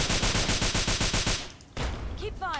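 Rapid automatic gunfire in Fallout 3, loud and rhythmic bursts for over a second, then a single sharp shot followed by scattered game sounds and a brief voice.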